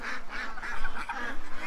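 Ducks quacking close by in a steady series of nasal, honking calls, several in quick succession with no talking.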